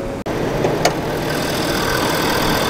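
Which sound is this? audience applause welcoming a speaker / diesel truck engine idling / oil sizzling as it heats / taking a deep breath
diesel truck engine idling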